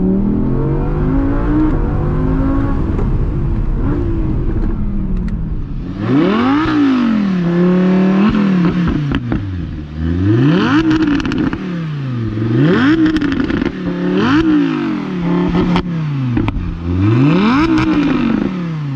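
A 2020 Audi R8 V10 Plus with ceramic brakes revs hard, a loud near engine climbing and dropping in repeated sharp sweeps, with a steady idle-like drone in the first few seconds before the revs begin.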